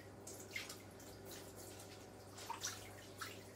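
Konjac noodles rinsed under a running tap, a low steady stream of water with soft splashes and a few brighter spattering bursts as the noodles are moved about.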